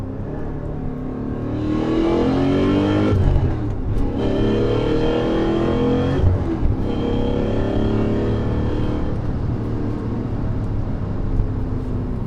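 A BMW E39 M5 with a Dinan S2 upgrade accelerates hard in second gear, its engine note loud and rising continuously, with brief dips at shifts, heard from inside the car with no talk.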